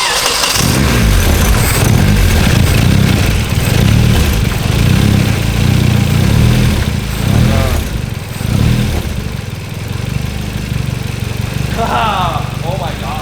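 A rear-wheel-drive Honda Civic's new engine idles loudly and close on its first start, a rough, steady running note with voices talking over it.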